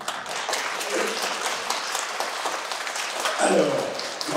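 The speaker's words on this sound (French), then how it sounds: "On peut l'applaudir." Audience applause at a Christmas festivities show, steady clapping from a hall crowd that holds for several seconds at an even level, with voices mixed in.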